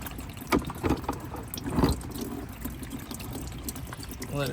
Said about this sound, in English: Twist it to the left, and it will drain the coolant out of the system